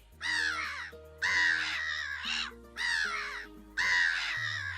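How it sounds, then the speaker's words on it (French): Repeated harsh black-headed gull cries in four loud bursts with short gaps, close and clear, over a low steady musical hum. "La mouette rieuse se mit à crier."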